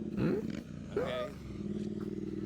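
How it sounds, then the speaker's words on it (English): A whole gang of motorcycles revving at a Houston car show, two rising throttle blips over a continuous engine drone, fairly close and loud. "It is a whole gang of motorcycles over here"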